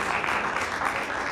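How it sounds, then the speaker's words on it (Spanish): A church congregation claps together in a dense, continuous burst of applause, steady and fairly loud throughout the short moment. "Dale un aplauso a Dios."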